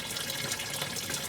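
Water drains steadily from the oil pan of a Mustang fox body, a close, continuous splashing trickle with no voices.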